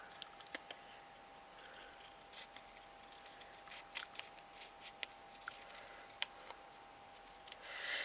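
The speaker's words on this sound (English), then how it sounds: "I'm using the wrong scissors." Scissors snipping paper while cutting out shabby chic heart decorations, a run of faint, sporadic clicks and snips in a quiet room.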